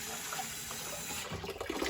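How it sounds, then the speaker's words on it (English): Cold water runs from a tap as a scarf is rinsed, a steady close splashing rush that swells toward the end, with no talking. "I'm going to rinse it in cold water"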